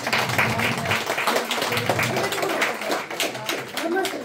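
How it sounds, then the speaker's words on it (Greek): An audience at a Greek cultural association's event in its new building applauds the club's volunteer children, steady scattered clapping under ongoing chatter and voices throughout. "Ένα πολύ μεγάλο χειροκρότημα για τα παιδιά μας."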